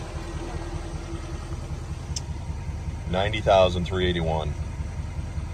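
A lifted, tuned 2016 Nissan Titan XD with a Cummins diesel engine idles with a low, steady rumble, while someone speaks close by over the running engine.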